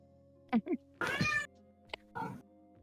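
A cat meows a few times, close and fairly loud, in short separate calls with one longer drawn-out cry in the middle, over a steady low background hum.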